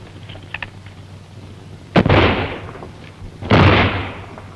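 Gunfire in a 1933 western film serial, two loud sharp shots about a second and a half apart, each followed by a rolling echoing boom, over faint background hum.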